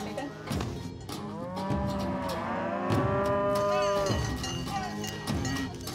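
Cows low repeatedly in a Swiss Alpine summer pasture, several long drawn-out moos overlapping near and loud with steady outdoor background.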